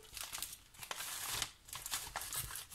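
Small paper envelope handled and crinkled close by, a run of soft rustles and crisp crackles with brief tearing-like bursts, no talking.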